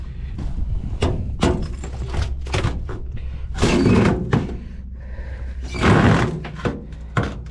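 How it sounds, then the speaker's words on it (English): Several heavy thunks and a scraping, straining creak as a stiff, frozen door is forced open, with bursts of rough grinding between knocks. "I don't even know if the door will open."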